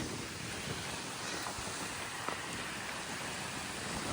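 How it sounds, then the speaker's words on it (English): Steady wind roars and buffets the microphone outdoors over limestone ground, a constant broadband rush with no voices. "Kind of windy."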